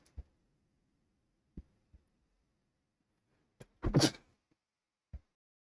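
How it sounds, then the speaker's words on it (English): A single short sneeze in a quiet room, sharp and fairly close, isolated between a few faint taps and knocks. "Excuse me, just sneezing."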